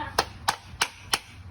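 Four sharp, evenly spaced hammer strikes drive a nail into a wooden bird house, each a crisp close knock with a short decay and no speech between them.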